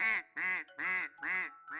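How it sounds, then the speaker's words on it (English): Cartoon ducks on a clean New York City river quack loudly in a steady run of about five evenly spaced, nasal calls, close and clear with nothing else around them. "Even the ducks on the surface were quacking with delight."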